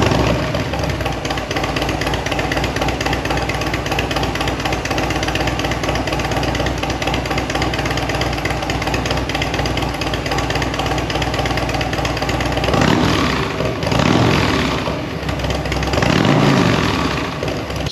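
Motorcycle with a Fuel Moto RTX Riot 2-into-1 shorty exhaust and Stage 4 build running, a loud, steady, close rumbling idle that holds throughout, with a couple of throttle blips near the end.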